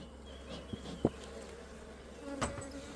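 Honey bees buzzing around an open mini mating nuc outdoors, a faint steady hum with a few individual bees passing close, quiet and without voices.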